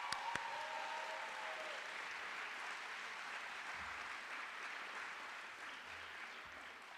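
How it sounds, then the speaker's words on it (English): Sustained audience applause at a graduation stole ceremony, a steady broadband wash of many hands clapping that holds evenly for about seven seconds, moderately distant, with a brief voice at the start. "Let's give a round of applause."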